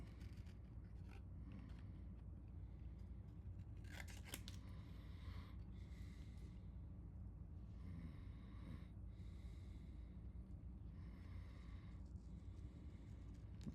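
Scissors fussy cut around a stamped paper image of a cloaked figure, producing soft repeated snipping and scraping close by, faint with a low steady background hum.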